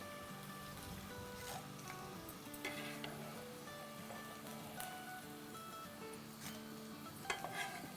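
French fries frying in hot oil give a steady, quiet sizzle and bubbling hiss throughout, with faint crackles and no voices.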